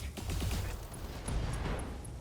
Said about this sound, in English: Ammo explosions killed him